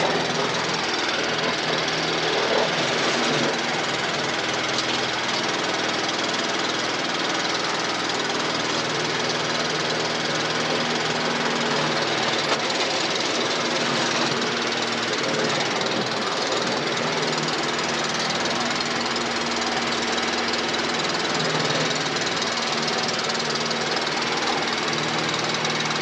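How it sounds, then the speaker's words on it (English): A Briggs and Stratton 450E lawnmower engine idles steadily with a continuous, fairly quiet mechanical drone and light knocking texture, running without a break. "the engine sounds lovely. Well, it's nice and quiet, the engine"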